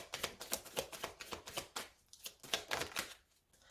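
Tarot cards snap and slide in quick succession as they are shuffled and laid out, a dense run of crisp close papery flicks with a brief pause before the last few, no voices.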